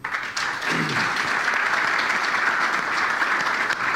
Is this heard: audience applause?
yes